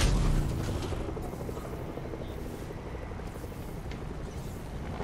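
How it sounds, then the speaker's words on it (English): A helicopter in the game Fortnite gives a steady, loud rotor roar and rumble that holds evenly throughout, with no voices over it. "We don't care about the helicopter."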